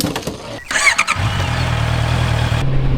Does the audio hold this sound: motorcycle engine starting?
yes